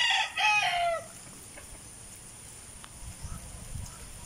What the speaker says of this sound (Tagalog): Yan po ang ating manukan sa ngayon.